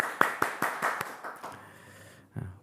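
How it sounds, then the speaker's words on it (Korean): A church congregation gives a short burst of applause: several distinct claps ring out, quickly thin and fade into a quiet room, followed by a brief low voice at the end. "우리 열심히 사명 감당하고 있는 샘처장분들 위해서 박수로 한번 격려할까요?"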